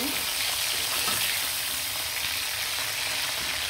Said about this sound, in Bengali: তো সুন্দর করে মাছগুলো ভেজে ফেললাম